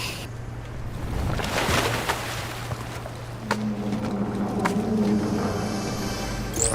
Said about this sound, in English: I guess the boat's down here creaking in there